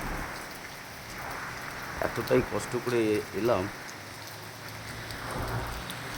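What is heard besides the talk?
heavy rain falling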